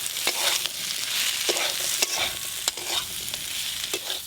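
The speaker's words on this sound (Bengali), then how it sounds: "এবার একটু লঙ্কা গুঁড়ি দিয়ে নেড়ে জল ঢেলে দেবো" Chili powder stirred into jackfruit seed curry frying in a pan with salt and turmeric: repeated scraping stir strokes over a steady close sizzle, with no talking.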